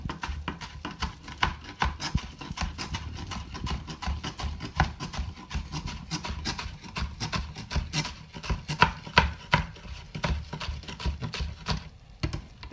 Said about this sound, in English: And after that, just chop.